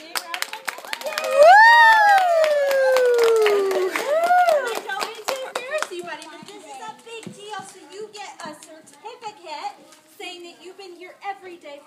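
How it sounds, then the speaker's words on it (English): Young children in a classroom cheer with high excited voices, then clap in a scattered burst of small hands for a student celebrating his 100th day of school, the claps sharp and close, with chatter mixed in. "Can we give him a big round of applause?"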